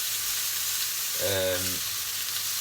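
Bacon frying on a hob gives a steady, close sizzle and crackle throughout, with a brief low tonal hum rising over the hiss midway.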